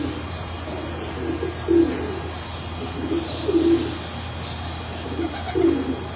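Pigeons coo softly in three low, throaty bursts spaced a couple of seconds apart, over a steady background hum.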